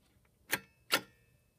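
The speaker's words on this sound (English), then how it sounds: "Notice you heard those two beeps." Two short PBX hold beeps sound after a telephone switchhook is flashed, evenly spaced about half a second apart, faint and alone.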